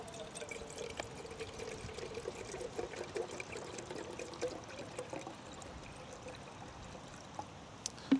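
Water poured steadily into a pot for boiling outdoors on a bog hike, a continuous soft trickling stream, close and fairly quiet, with no voices.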